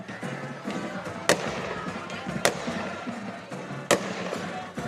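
Fireworks go off during a high school football pregame at Berryhill, three sharp booming cracks spaced about a second apart over a steady rumble of stadium crowd noise.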